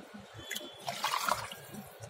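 Water poured into a pot holding a cup of curd to thin it into buttermilk for khandvi, a steady close splashing and trickling that swells midway and runs on alone without talk.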